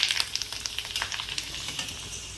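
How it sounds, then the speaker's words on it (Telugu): Papads (appadalu) frying in hot oil as a side for home-style sambar, giving a steady close sizzle with crackling bursts and stirring throughout, no voices. "ఇప్పుడు సాంబార్లోకి కరెక్ట్ మ్యాచింగ్ అప్పడాలు, అవి ఫ్రై చేసుకుంటున్నాం"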